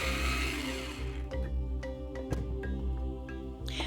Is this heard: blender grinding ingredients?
yes